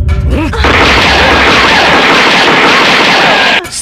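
A loud pistol gunshot in a Bangladeshi film scene, with a sharp blast followed by a long, roaring, reverberant burst that fades out after a few seconds.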